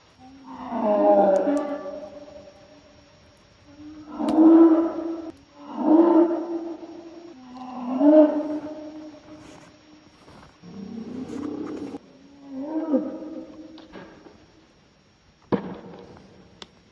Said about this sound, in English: As darkness settles over the forest, a powerful roar suddenly breaks through the silence.